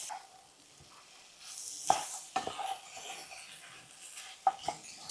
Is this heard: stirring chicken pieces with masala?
yes